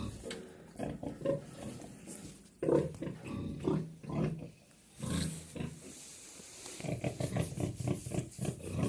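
A resting pig grunts and snuffles close by, heavy breathing mixed with low snorts in an irregular rhythm, with faint noise around it.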